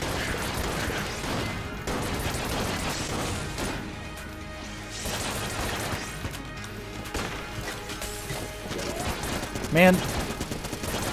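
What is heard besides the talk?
rapid gunfire in the video game Enter the Gungeon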